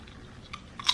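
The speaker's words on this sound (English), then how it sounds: "My verdict on first bite, they're good, but they just taste like, you know, your average salt and vinegar chip." A close bite and crunch into skin-on salt and vinegar potato chips, a soft snap followed by a louder crisp crackle at the end, with no talking.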